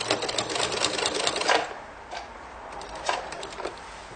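A sewing machine runs steadily while stitching a baby blanket, its rapid needle clatter loud and close for about a second and a half before easing into quieter, intermittent bursts of stitching.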